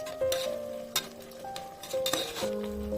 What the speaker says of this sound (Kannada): ಚೆನ್ನಾಗಿ ಫ್ರೈ ಆಗ್ತಾ ಇದೆ ಇದು ಎಣ್ಣೆಯಲ್ಲಿ.